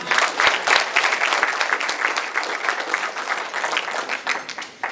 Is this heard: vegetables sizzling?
no